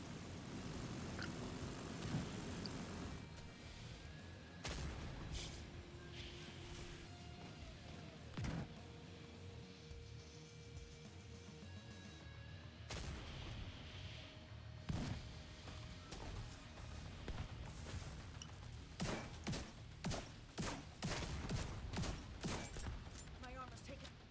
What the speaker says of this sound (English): The first 2 mortars are available to be shot, so we will fire at them.